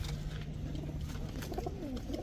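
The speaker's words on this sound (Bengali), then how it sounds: "ছাড়াছাড়ি লাইনের উড়াউড়ি লাইনের 3 জোড়া হাই ফ্লায়ার গিরিবাজ কবুতর" Several high flyer Giribaz pigeons coo steadily, soft repeated calls over a constant low background hum, with no voices.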